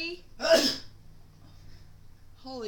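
A single sharp, loud sneeze bursts out close by, followed by quiet room hum and then a voice starting to speak.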